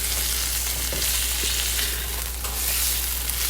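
Garlic, ginger and onion sizzle in a little oil as they are stir fried, a loud, close, continuous frying hiss with a few soft stirring knocks, no voices.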